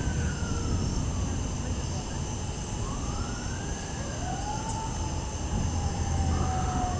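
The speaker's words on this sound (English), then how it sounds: "In the distance I can hear lots of sirens" Several sirens wail far off during a thunderstorm in Hamilton, Ohio, rising and falling faintly over steady rain and background rumble, with a little talk nearby.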